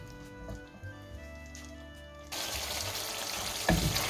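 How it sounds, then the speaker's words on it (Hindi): Restaurant-style white chicken karahi cooks on low heat, a soft bubbling simmer that suddenly swells into a louder, dense close-up sizzle with a brief sharp clatter near the end. "चार से 5 मिनट के लिए हमने इसको लो हीट पे पकाना है।"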